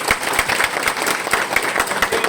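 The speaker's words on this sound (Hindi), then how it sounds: "दमदार ताली बजाओ" An audience at a network marketing seminar in an indoor hall claps for a first-time attendee. The applause is steady and fairly loud, with dense overlapping claps that last the whole stretch and carry no talk.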